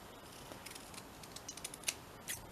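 Scissors make a few quiet, close snips through paper while a flower pot craft is trimmed, with small crisp clicks spaced irregularly against a faint background.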